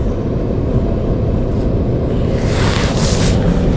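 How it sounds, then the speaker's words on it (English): Water rushes continuously through an HVAC pipe, a dense, steady broadband hiss heard close up with no voices. "there's water flowing through here."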